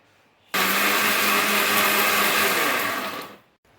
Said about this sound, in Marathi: आता हे मिक्सचरमध्ये आपण फिरवून घेणार आहे, रस तयार करणार आहे.